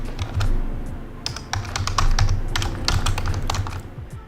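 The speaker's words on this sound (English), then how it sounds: "And I'm just gonna type in" Fingers tap out a price on a computer keyboard in quick irregular clusters of crisp clicks, close to the mic over a low steady room hum.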